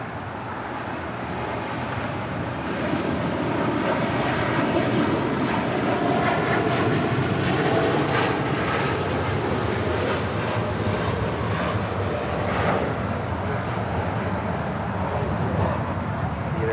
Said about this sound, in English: This is Air Tahiti Nui, flight 621, taking off to Papeete on a 787-9 Dreamliner.